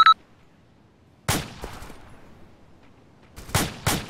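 Gunfire in ARMA 2 combat: a sharp shot near the start, then a single loud crack with a decaying echo, a quiet stretch, and two more cracks close together near the end.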